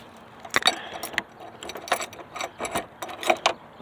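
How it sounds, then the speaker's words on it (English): Two sets of Ford car keys, one for a 1971 Thunderbird, jangling close by in a run of irregular metallic clinks and rattles, with no talking. "I got two sets of Ford keys now, so they're kind of confusing"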